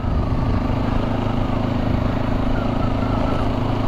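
A motorcycle engine drones loud and steady while riding near Ash Fork in warm weather, with constant wind rush over the bike throughout.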